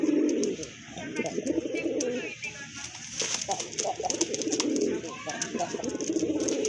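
Chila pigeons coo in repeated low, throaty rolling phrases at close range, with a few brief chirps overhead and quiet background rustling between calls.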